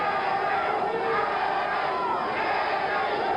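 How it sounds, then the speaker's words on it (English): A boxing crowd at a 1977 heavyweight bout between Ken Norton and Jimmy Young, with part of the arena chanting the name "Jimmy Young" in a continuous, distant roar of massed voices. "There's a segment of the crowd here that keeps chanting, Jimmy Young, Jimmy Young."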